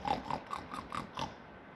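A human voice imitates a pig, giving six short nasal oinks in an even rhythm, close and moderately loud, over quiet background.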